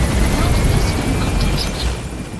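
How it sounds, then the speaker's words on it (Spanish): Combat helicopter arriving in the video game Metal Gear Solid V: The Phantom Pain, a loud continuous roar of rotor and engine noise filling the whole stretch with no break. "Sobre todo un helicóptero de combate."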